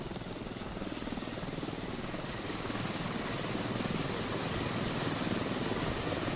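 A helicopter in the military shooter Squad drones steadily and close, its rotor thrum and engine whine constant and slightly rising over the whole stretch with no talk.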